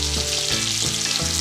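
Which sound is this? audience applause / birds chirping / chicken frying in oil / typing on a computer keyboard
chicken frying in oil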